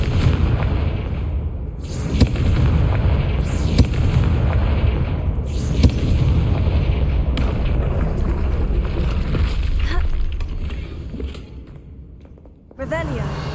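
Heavy booming blasts from the Confringo fire spell in the video game Hogwarts Legacy, several loud impacts scattered over a dense rumbling game soundscape, with spoken voice present.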